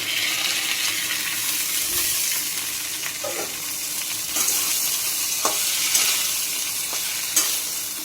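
Potatoes and ridge gourd fry in a pan with a continuous soft sizzle, broken by occasional scraping stirs and a few sharper clicks, with nobody talking.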